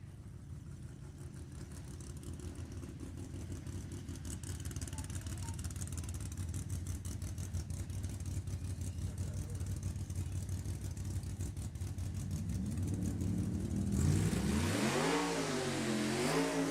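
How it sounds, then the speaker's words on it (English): Small tire drag race cars, one with a ProCharger and one turbocharged, rumble at idle and build steadily, then rev hard with rising, wavering engine pitch near the end, loud and close with no clear talk. "One's really loud with the Pro Charger, one's really quiet with the turbo."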